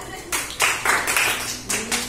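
A group of schoolchildren in a classroom clapping for a candidate in a class vote, several short bursts of fairly close applause separated by brief pauses.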